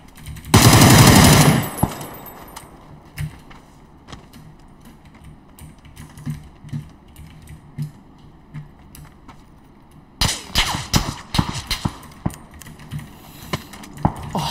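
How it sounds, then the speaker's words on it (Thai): Gunfire in a video game: a loud burst of rapid automatic fire opens, followed by sparse clicks and thuds, then more clattering shots later mixed with keyboard taps. "เสียงปืนกระทบ"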